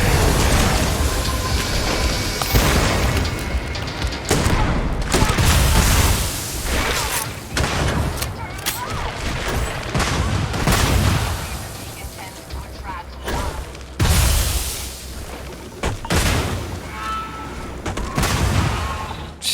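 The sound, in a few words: explosions and gunfire in a video game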